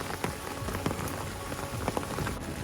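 Heavy rain drumming on an umbrella along a waterlogged Appalachian Trail path, a dense steady patter with irregular louder drops, close and continuous throughout.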